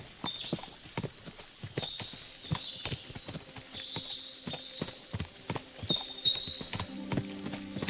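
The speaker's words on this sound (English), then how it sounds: "What a lot of horses." Horse hooves clip-clop at a walking pace in the medieval game Kingdom Come Deliverance II, close and rhythmic over a soft outdoor ambience, with faint harness jingles and no talking.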